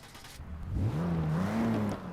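A 2005 BMW M3 engine in the video game Forza Motorsport 6 revs up from low to a rising, droning whine and holds there, loud and close.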